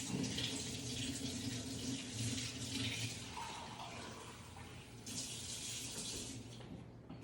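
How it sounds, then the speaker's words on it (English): Water runs steadily from a kitchen tap while warm water is drawn for pizza dough, a continuous close rushing stream with a brief shift in flow partway through and no talking. "I run the water until it's just barely warm"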